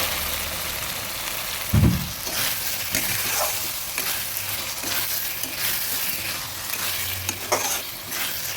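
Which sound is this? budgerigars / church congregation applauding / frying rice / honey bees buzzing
frying rice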